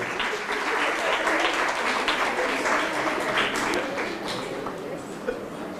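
Sustained applause from an audience at an HR summit awards gathering, dense steady clapping filling the room for several seconds, with faint voices mixed underneath.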